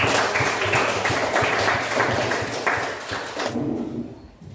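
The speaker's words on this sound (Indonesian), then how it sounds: "Oke, tepuk tangan." Applause in a classroom after a group discussion session: a few seconds of steady, moderately loud clapping from a group that tapers off toward the end.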